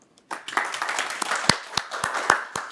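An audience at a Korean forum lecture on the display industry claps to welcome a guest professor, a burst of close, fairly sparse individual handclaps starting after a brief pause and continuing steadily.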